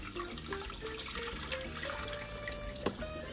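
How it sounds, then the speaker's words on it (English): Water pours from a tap into an 8-quart cooking pan for beef soup, a steady running splash with a rising tone as the pan fills and one brief clank near the end. "8 cups of water. And I'm splashing it all over."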